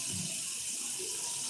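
A bathroom tap runs steadily into a sink as someone gets ready to wash their face, a close, continuous hiss of flowing water with no talking over it.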